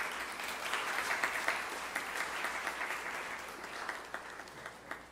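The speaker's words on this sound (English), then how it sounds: "A round of applause, please." An audience applauds at a national workshop on hidden hunger and food fortification, with steady, moderately loud clapping from a roomful of people lasting throughout and individual claps standing out near the end.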